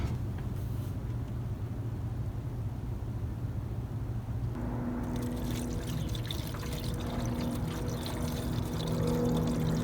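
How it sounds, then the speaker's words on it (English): Coolant being poured into a car's cooling system during a power steering repair, a steady trickling, gurgling flow heard up close and alone, with the pour growing brighter and busier partway through. "I think we about topped off on a coolant now."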